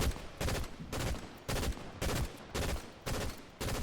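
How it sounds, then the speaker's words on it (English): Gunfire in the video game Fortnite: a regular series of about seven distinct bursts of shots, evenly spaced roughly half a second apart, moderately distant and fairly quiet, with no voices. "Oh, they're shooting."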